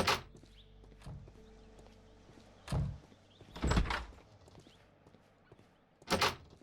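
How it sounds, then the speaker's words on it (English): A door opens in a Sherlock Holmes detective game, heard as scattered low thuds and knocks mixed with faint footsteps, each impact short and moderately loud over a quiet background. "Let's go out this door."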